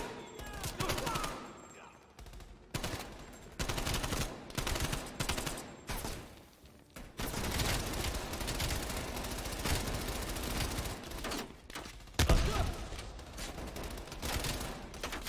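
MP5 submachine gun fire in the video game Black Ops Cold War crackles in rapid bursts and scattered shots, with brief gaps between volleys, under a busy game soundtrack.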